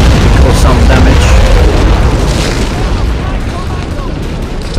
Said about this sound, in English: My rocket barrage seems to have certainly caused some damage